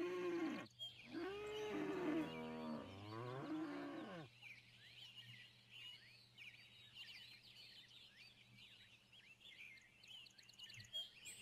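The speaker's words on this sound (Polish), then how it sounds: "Krowy muczą." Several loud cow moos from the farming video game Cattle and Crops in quick succession, low and drawn out, then fading into a quieter outdoor ambience with chirping birds.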